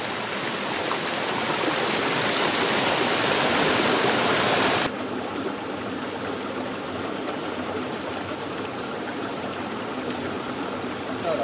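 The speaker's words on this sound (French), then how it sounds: "voilà le petit endroit où se jette l'eau pour former cette cascade" A small waterfall in the Vosges mountains near Gérardmer roars with a steady rushing hiss, loud at first and then abruptly quieter, the flow continuing evenly throughout with no talking.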